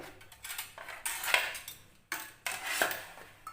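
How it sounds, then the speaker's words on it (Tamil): A ridge gourd's skin is scraped with a toothed kitchen scraper: two close, rough rasping strokes, each swelling into a gritty scrape and then trailing off. "இப்போது இந்த மாதிரி காய் சுரண்டி எடுத்துக்கலாம்"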